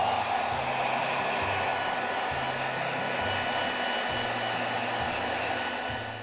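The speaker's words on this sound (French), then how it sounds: "on va utiliser le sèche-cheveux pour venir étaler l'ensemble du chocolat sur le palais" A hair dryer blows steadily and loudly up close over a chocolate-coated dessert, a constant whooshing roar with a low motor hum that wavers slightly throughout.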